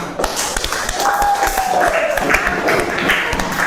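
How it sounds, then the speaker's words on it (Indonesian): A group claps in a brief burst of applause, fairly close, with a faint whistle-like tone sliding through the middle. "tepuk tangan untuk kita semua"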